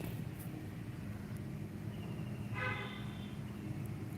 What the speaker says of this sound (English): As you can hear, there's some sound from the traffic